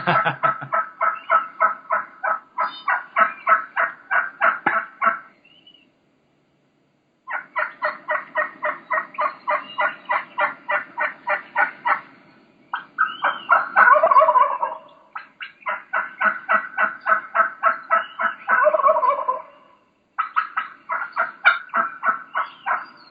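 Wild turkey gobbler gobbling in a long series of rapid, rattling bursts separated by short pauses, loud and close with no talk.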